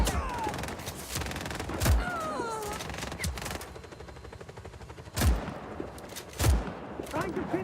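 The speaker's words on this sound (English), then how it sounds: "Give me covering fire!" Video game gunfire in Just Cause 3 sounds as sharp, close shots, with scattered single cracks and short bursts over a constant battle rumble and whooshing effects.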